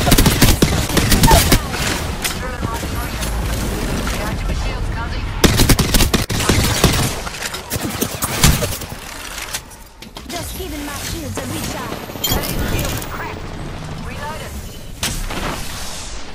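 Rapid automatic gunfire bursts in an Apex Legends battle royale match, loud and dense with overlapping shots and booms throughout, a brief lull near the middle, with a player's voice talking over the shooting.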